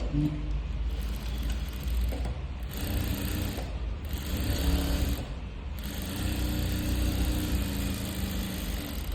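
A sewing machine stitches folded fabric for thread piping: a close, continuous motor whir with a mechanical rattle that pauses briefly a few times before running on.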